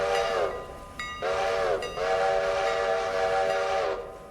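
Steam-style train whistle sounding as the train nears a station: three loud, sustained chords with brief breaks between them, up close and without speech.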